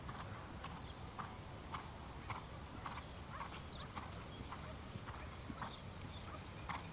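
Steady clip-clop of horse hooves striking ground in a regular rhythm during 1.10 m show-jumping training, fairly close, over a low background rumble.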